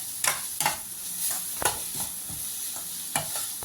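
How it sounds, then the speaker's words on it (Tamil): Pumpkin halwa being stirred in a pan, with a spoon scraping and knocking against the metal in several distinct strokes over a soft, faint sizzle, close and with no voice. "இதை நம்ம வணக்கி விட்டுக்கிட்டே இருக்கலாம். அது வெந்து வரும்."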